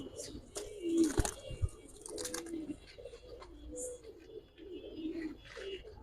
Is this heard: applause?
no